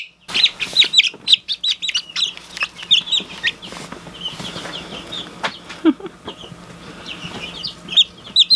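Bantam and standard buff Orpington chicks cheep in high, rapid bursts close by, with brief flutters and soft clucks scattered through the stretch.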